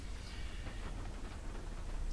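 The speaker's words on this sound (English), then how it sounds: "It's still raining outside, if you can hear it." Rain falls outside as a steady, broadband wash of patter that holds even and moderately loud throughout, with no talking.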